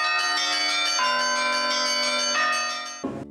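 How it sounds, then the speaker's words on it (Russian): Church bells on a belfry, driven by an electronic bell ringer at a newly consecrated church, peal loudly and steadily with rich ringing overtones, a couple of strikes overlapping before an abrupt cutoff. "колокола на звоннице управляются электронным звонарем"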